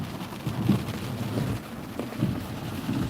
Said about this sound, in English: Look at that rain. Coming down like crazy.